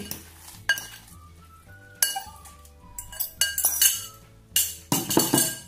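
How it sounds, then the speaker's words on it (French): Dried okra (djoumblé) tipped into a pot of okra sauce: metal utensil clinks and scrapes against the pot, with intermittent stirring and faint sizzling in between, close and moderately loud. "Là, maintenant, je vais ajouter le jumble."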